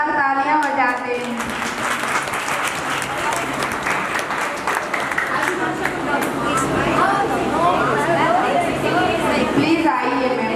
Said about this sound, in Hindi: शकुंतला मैम को जोरदार तालियां बजाते हैं।